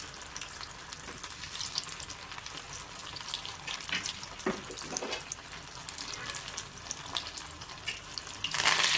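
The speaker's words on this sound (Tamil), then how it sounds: "எண்ணெய் வந்து நம்மளுக்கு நல்லா சூடானனால இது வந்து வெந்துருச்சு." Soya nuggets with pre-cooked potato fry in hot oil in a pan, giving a continuous close sizzle and crackle with occasional louder spits and a sharp burst near the end; no one speaks.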